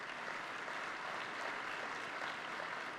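Audience at a climate summit speech applauding, a dense steady wash of clapping from a large crowd at an even level throughout, without a voice standing out.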